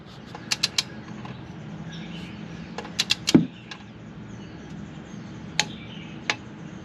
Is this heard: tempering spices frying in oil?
no